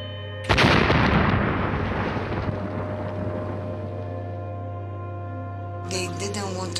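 A single heavy blast from shooting during a military occupation booms out and rolls away in a long reverberating decay over a steady low hum, with faint noise returning at the end.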